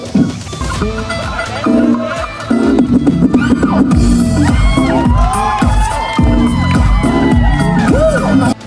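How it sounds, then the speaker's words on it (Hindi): At a wedding sangeet, a crowd cheers, whoops and shouts loudly and steadily, with voices raised and overlapping throughout. Bursts of clapping mix in under the cheering. "तालियां हो जाए"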